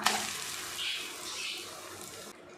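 Mudakathan keerai dosa sizzles steadily in oil on a hot pan, a continuous frying hiss with faint watery crackle, close and moderately quiet, tapering off near the end.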